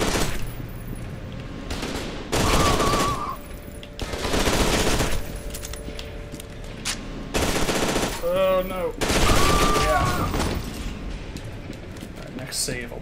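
Enemy soldiers open up with rapid automatic gunfire in the shooter game F.E.A.R. 2, in loud sustained bursts separated by brief lulls, with game voices and effects mixed in between.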